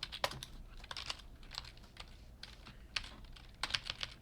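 Code being typed on a computer keyboard during a C# lesson: irregular, fairly quiet clicks and key taps, sometimes in quick bursts and sometimes spaced apart, with no talking.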